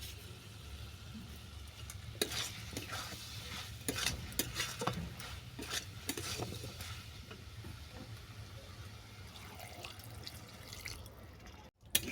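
Vegetables being stirred with salt in a hot pan, heard as a quiet background sizzle with soft, irregular scraping stir strokes close by and a sharp clatter at the end.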